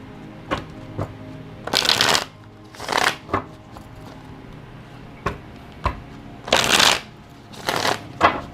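A deck of tarot cards being shuffled by hand in a quiet room, with several bursts of riffling and sliding cards between soft taps and knocks, close and crisp, no voices.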